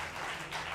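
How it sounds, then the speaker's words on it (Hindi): Faint, brief applause from an audience, a soft wash of clapping heard from a distance. "जोरदार तालियां बजा लीजिए भाई"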